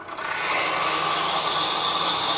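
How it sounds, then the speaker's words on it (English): A drill bites steadily into holly wood, a continuous loud grinding whir with a rough scraping texture, close up and without talk. "or I'm going to drill to the mark I have"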